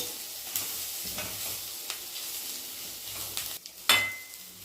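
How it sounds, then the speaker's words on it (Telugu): Ingredients for a raw mango roti pachadi sizzle in a pan with a pinch of turmeric, a steady low frying hiss broken by stirring scrapes and small clicks, ending in a sharper clatter of the spoon. "ఇందులోనే చిటికడి పసుపు వేస్తున్నాను స్టవ్ కిందిగా పెట్టేసి కొంచెం ఒక టూ మినిట్స్ వేగనివ్వాలి"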